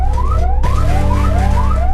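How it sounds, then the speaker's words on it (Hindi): Loud ambulance siren wailing in repeated rising sweeps, close by and continuous, with traffic rumble underneath, on Delhi streets during the COVID-19 pandemic. "सड़कों पर सायर बजाती एम्बुलेंस दिलों में दहशत पैदा करती हैं।"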